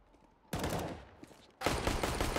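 Gunfire from a Glock pistol in Counter-Strike on the Nuke map, two loud dense bursts of rapid shots separated by a short lull, with no talk over them.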